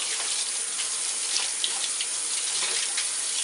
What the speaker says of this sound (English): And now we'll just hose it off.